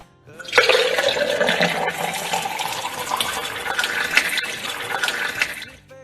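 Drinking water pours steadily into a glass or cup indoors, a continuous close liquid stream with a rising fill tone lasting several seconds, with no talking.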